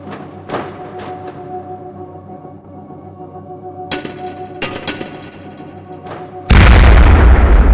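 Cluster bomb blasts in the shooter game Gunman Chronicles: a few sharp bursts ring out over a steady hum, then a loud, dense roar of explosions arrives close and fills the end.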